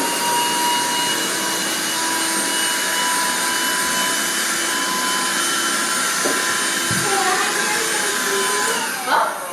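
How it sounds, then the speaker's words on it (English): Black and Decker vacuum cleaner running steadily to suck up a mess, a loud continuous motor whine with airflow roar throughout and a brief surge near the end. "You think it's going to vacuum it up?"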